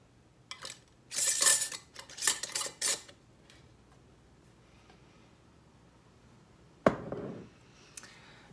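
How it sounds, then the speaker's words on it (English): Metal lid and band are fitted and screwed fingertip tight onto a glass canning jar of pickles, giving a quick run of close scraping, clinking twists, then a sharp clank after a quiet pause. "I can go ahead and put my lid on fingertip tight"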